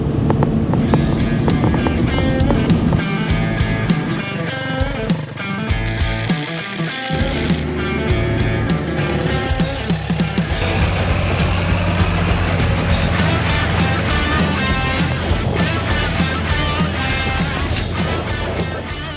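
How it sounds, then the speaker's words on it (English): A 2013-18 Ram 2500 HD four-wheel-drive pickup truck with a worn wheel bearing drives on the road, making a loud, steady rumbling growl under wind and road noise that continues throughout. No voices. "This Ram 2500 HD four-wheel drive has a growling noise coming out of it."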